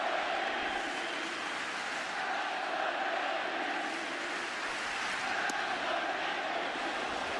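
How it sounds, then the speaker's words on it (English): Huge stadium crowd at Old Yankee Stadium during the 2008 All-Star Game chanting Let's Go Yankees, a continuous dense roar of massed voices filling the space, steady and loud throughout. "And a Let's Go Yankees cheer"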